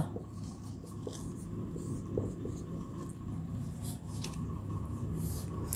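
A word being written by hand, a faint scratchy stroking that runs throughout beneath a steady low background hum.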